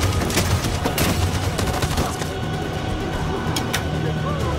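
Machine gun fire rattles through a chaotic Detroit street battle in the video game Detroit: Become Human, with rapid bursts of shots and sharp cracks over a dense, rumbling backdrop of combat noise.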